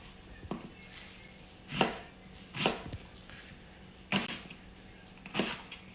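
Knife roughly chopping an onion on a cutting board, a handful of sharp, separate chops spaced about a second apart, close and fairly quiet with no talking.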